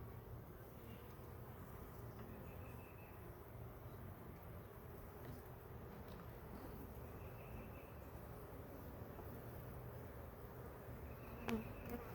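A soft, continuous drone of many honeybees buzzing close together, steady and low throughout.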